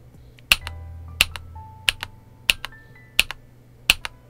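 Keystrokes on a KiiBoom Phantom68 mechanical keyboard with a pink transparent case, six sharp, evenly spaced clicks about two-thirds of a second apart, close and clear over a quiet background.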